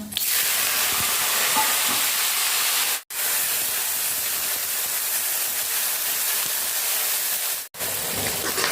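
Green chillies dropped into very hot oil in a kadai, giving a loud, continuous sizzle and hiss that fills the whole stretch, broken by two brief cuts.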